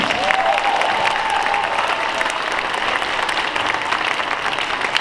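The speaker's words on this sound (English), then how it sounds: "How about one more round of applause, 5th grade band?" A crowd at a school fifth grade band concert claps steadily and fairly loudly, a dense wash of applause that holds its level throughout.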